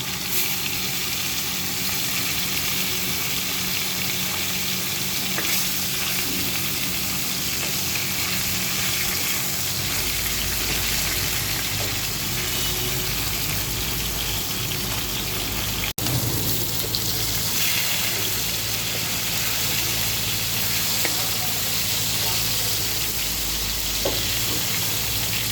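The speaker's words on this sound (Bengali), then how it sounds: "একদম লাল লাল করে ভেজে নিচ্ছি" Poa fish fries in plenty of oil in a pan, giving a steady, loud, close sizzle that runs unbroken the whole time, with a brief clatter partway through and no talking.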